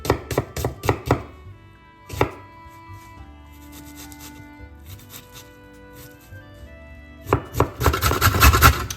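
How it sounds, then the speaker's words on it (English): Onions chopped thin with a knife on a board, a quick run of crisp, close cuts at the start, a single chop mid-way, then a dense burst of rapid chopping at the end, no talking. "Let's chop the onions"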